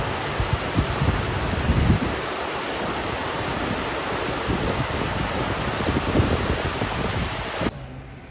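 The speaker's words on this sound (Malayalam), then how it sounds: "നല്ല മഴയുണ്ട്. മഴ എന്ന് പറഞ്ഞു കഴിഞ്ഞാൽ മഴ മാത്രമല്ല, നല്ല കാറ്റുമുണ്ട്." Heavy rain and strong wind lash Kochi in a dense, steady roar of hiss and spatter. It is close and continuous, with no voices, and briefly dips near the end.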